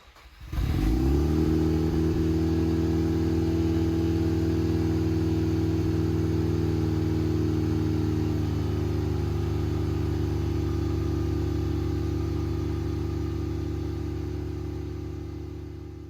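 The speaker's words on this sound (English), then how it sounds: "And finally, start your car to check for any leaks." A 1993 Mazda RX-7 FD3S rotary engine fitted with a Racing Beat midpipe and air pump delete cranks briefly, fires up with a rev, then settles into a steady, loud, close idle that fades slightly near the end, with no talking.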